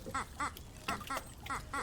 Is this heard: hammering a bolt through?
no